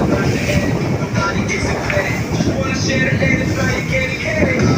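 Strong waves crash and churn against the shore in a steady, loud roar with wind buffeting the microphone, while excited voices talk over the surf.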